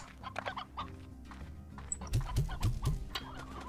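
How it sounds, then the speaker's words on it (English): Chickens cluck in the video game Slime Rancher, a short series of rhythmic clucks growing louder toward the end over a faint game soundscape, with no talking. "Oh yeah, I had chickens down there"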